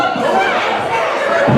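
A wrestling crowd at a no-disqualification match roars loudly and steadily, a dense wall of cheering and chatter that stays full throughout, with a couple of thuds and swells within it.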